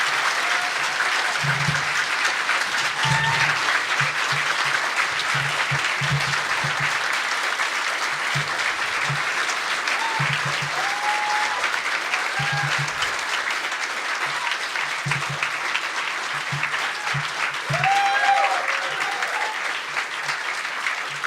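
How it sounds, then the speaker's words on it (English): A convention audience gives a standing ovation at a closing ceremony, with dense, steady applause from a large crowd that holds at full strength throughout, and a few faint cheers come through. "Go ahead and give yourselves a standing ovation, please."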